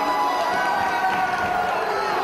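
Wrestling fans of PWG fill an arena with a steady murmur and cheering, a dense crowd roar with a commentator's voice over it.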